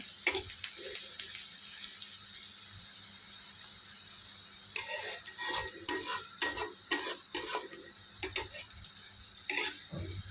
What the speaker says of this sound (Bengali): পেঁয়াজটা একটু লাল লাল করে ভেজে নিতে হবে